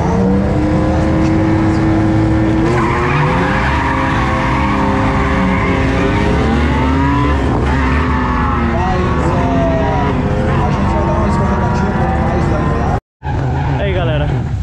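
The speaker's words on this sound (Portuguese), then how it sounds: "os carros estão passando ainda" Loud, continuous roar of high-powered drag race cars accelerating and revving nearby at Tarumã, engine pitch rising and falling, with voices shouting over the din.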